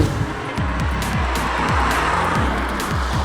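A 2021 Renault Megane RS300 Trophy EDC hot hatch engine revs hard and repeatedly through rapid gear changes, loud and close, each rising whine dropping sharply before climbing again.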